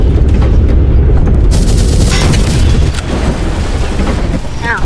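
Loud, dense booming blasts and crackling gunfire-like bursts from a tank warfare video game fill the whole stretch, a continuous battle din with no clear pauses.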